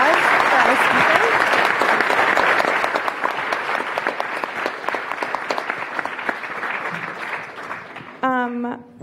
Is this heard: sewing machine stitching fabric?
no